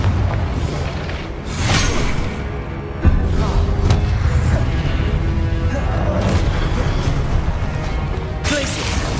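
Confringo blasting spells exploding in Hogwarts Legacy: loud, dense booming blasts with crackling bursts and whooshes, repeated continuously and close up.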